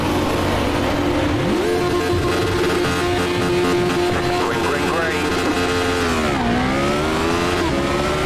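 A Radical SR8 race car in the iRacing simulator launches from a standing start at Phillip Island with a dual-clutch gearbox, its engine loud and constant, pitch climbing through upshifts with other cars droning close around.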